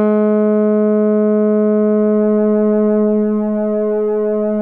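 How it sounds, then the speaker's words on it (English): Buzzy synth tone from an Analogue Solutions Fusebox, held steady and rich in harmonics. Near the end its timbre starts to shift as LFO-driven pulse width modulation kicks in, with no voices over it. "there you can hear the pulse width modulation kick in"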